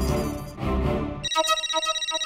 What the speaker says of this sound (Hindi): मैं भिड़े को फोन करता हूँ